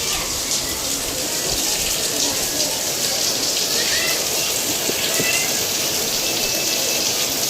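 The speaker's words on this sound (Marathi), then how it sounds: "पाऊस आला मस्त" Steady rain falls outdoors in monsoon weather, a dense continuous hiss of drops on surfaces that stays even and fairly close throughout, with no break or lull.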